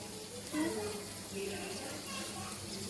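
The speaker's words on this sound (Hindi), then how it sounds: "अब इसमें बस पानी डाल देंगे।" Water poured into a pot of browned cumin for rice, a soft running splash and bubbling at moderate distance, fairly quiet, with faint background sounds.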